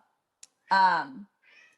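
A cat lets out a single clear, drawn-out meow close by, preceded by a tiny click and followed by a faint trailing sound, otherwise quiet.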